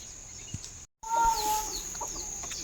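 Chickens cluck near a purpose-built coop at a village farmhouse, with soft clucks and a few higher calls, briefly cut by a moment of total silence before clearer, louder clucking resumes.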